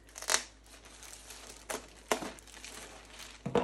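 Plastic wrap and a bit of tape handled while unboxing large storage portfolios, giving a sharp crinkle near the start, then scattered brief crinkles and rustles at close range with quiet pauses between.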